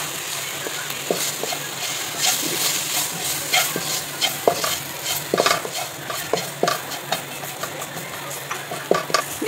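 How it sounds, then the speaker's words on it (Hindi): Spices for samosa potato filling are stirred and lightly roasted over a low flame, giving a steady soft sizzle beneath repeated close scraping strokes of a spoon against the pan, with no one speaking. "ये सब मसाले हम इसमें शामिल कर देंगे। देखिए इसे हल्का सा भूनेंगे लो फ्लेम पे।"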